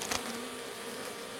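A swarm of honeybees under roof tiles, a steady faint buzzing hum that fills the whole moment, with a brief louder rustle near the start.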